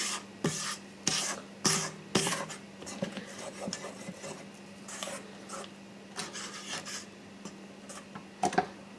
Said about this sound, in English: I'm just going to scrape this down, get it off the sides and off the bottom.